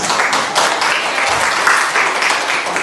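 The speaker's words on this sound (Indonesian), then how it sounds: "tepuk tangan untuk Afgan" A classroom of students claps for a classmate, a dense, steady round of applause from many hands, loud and continuous throughout.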